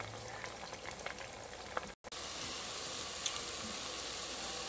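An onion mixture sizzles and simmers in a pot for tuo zaafi, a steady crackling fry with small bubbling pops, quiet and continuous apart from a brief cut near the middle, with no voices.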